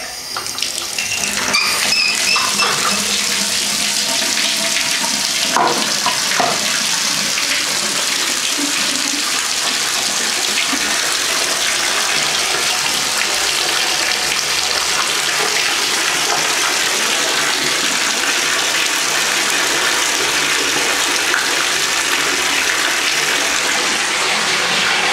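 Water runs steadily down a bathtub drain for the whole stretch, a continuous close rushing flow with a few brief knocks and clatters early on and no talking.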